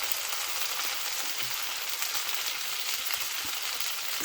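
Potatoes and cabbage with Beyond Sausage fry in a pan, giving a steady, dense hiss of sizzling that holds evenly throughout with no voices.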